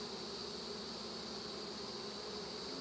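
Honey bees hum in a dense, continuous buzz around a bait hive at dusk, steady and fairly faint with no voices.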